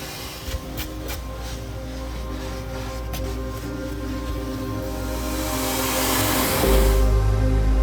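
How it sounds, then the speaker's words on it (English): A professional vacuum cleaner drones steadily inside a car while the interior is cleaned, its whine and airflow hum rising toward the end as the nozzle works close by. "employing a professional vacuum to work its magic"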